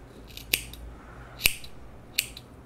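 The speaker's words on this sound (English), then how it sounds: "And then you want to cut down the bottom like this of your tails." Scissors snip through crochet yarn tails on a smocked pillow cover, three crisp separate cuts spaced about a second apart, close and clear in a quiet room.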